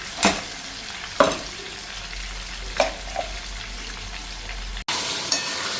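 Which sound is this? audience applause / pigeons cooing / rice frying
rice frying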